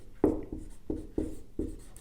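A pen scratches across paper in four distinct strokes about every third of a second, close and clear against a quiet room as an answer to a Hindi grammar question is written out.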